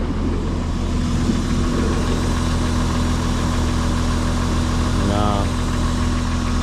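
A three-row family car's engine idling steadily up close, loud and continuous with a low hum and a possible slight tick, and a brief voice-like sound partway through.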